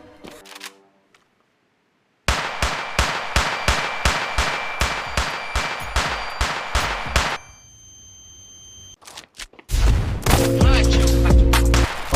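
Gunfire in a standoff: after a quiet start, a rapid string of about a dozen sharp metallic shots rings out, followed by a lull, scattered clicks and then a loud, dense burst.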